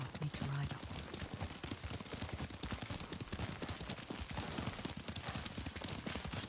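Rhythmic clip-clop of a horse's hooves in the Ghost of Tsushima video game, a steady galloping beat that stays close and loud throughout, with a faint rustle of movement underneath.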